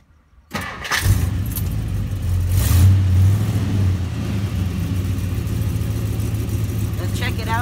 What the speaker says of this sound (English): Now let's start up the car.